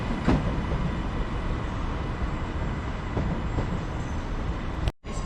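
A Class 397 train on a delayed service to Manchester Airport rumbles through Manchester Piccadilly, a steady broad rail roar with a few faint clicks, ending in a sudden cut.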